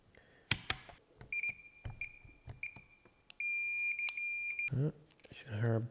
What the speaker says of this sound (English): Should hear a beep.